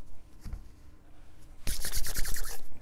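A deck of oracle cards is cut by hand, giving a soft brush, then a louder crisp run of riffling, slapping card noise near the end, close up and quiet with no talk.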